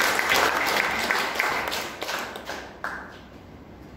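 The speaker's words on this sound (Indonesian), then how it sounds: "Berikan tepuk tangan dulu." Church congregation applauding during a Sunday sermon in Palembang, a dense wash of clapping that stays steady for a few seconds and then thins and fades toward the end.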